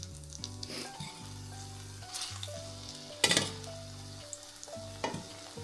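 Banana fritters frying in hot oil, a close, crackling sizzle with occasional scrapes and taps as they are turned, no talking.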